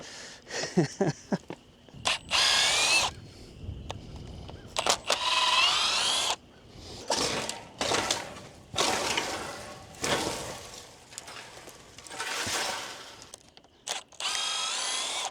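A power drill backs screws out of a garden fence in repeated whining bursts of a few seconds each, separated by short pauses and clicks, loud and close.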